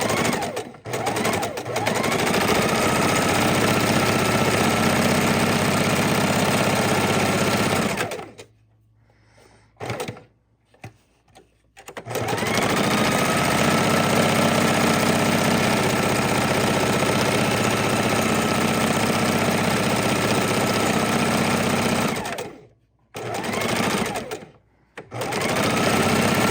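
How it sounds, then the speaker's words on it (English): Sewing machine stitching thread painting on a raw edge appliqué Halloween quilt, a fast loud continuous whir in long runs broken by a few brief pauses. "Now we're just going to do a lot of thread painting in here."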